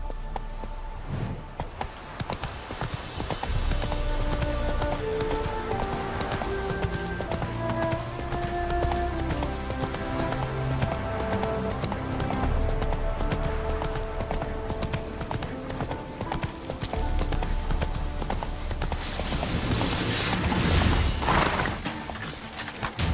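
Horse hooves clip-clopping at a gallop in The Witcher 3: Hearts of Stone, steady and continuous under a layered game soundtrack, with a short burst of other effects near the end.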